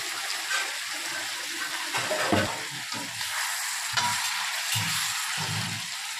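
Cut brinjals frying in a pan for egg curry, a steady loud sizzle with bursts of stirring and spatter, alone without talk.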